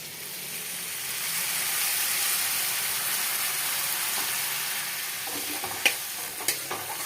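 Potato curry is stirred in a pan with a little water, making a steady soft hiss and sizzle, and a few faint spoon scrapes stand out near the end.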